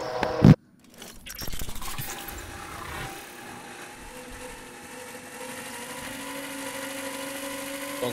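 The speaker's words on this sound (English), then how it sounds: "I'm talking about a drone." A drone whirs in Call of Duty Blackout, a low steady mechanical hum that starts after a loud thump and a brief scrape, then holds at a moderate level for several seconds with no talk.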